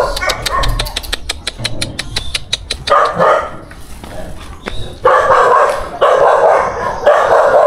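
A dog in a Chinese cemetery memorial park at night barks repeatedly. A quick run of sharp barks comes first, followed by longer, louder bursts. Background noise and possible voices sit underneath.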